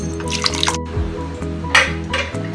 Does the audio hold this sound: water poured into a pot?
yes